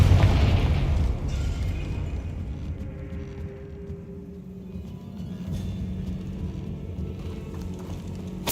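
A Confringo fire spell in Hogwarts Legacy bursts with a loud boom at the start, then decays into a long rumbling, crackling roar that lingers for several seconds.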